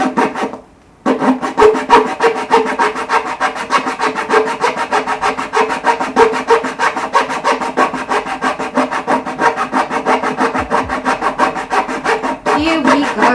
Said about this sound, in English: I'm cutting all the way through this, and I'm also sanding all of the edges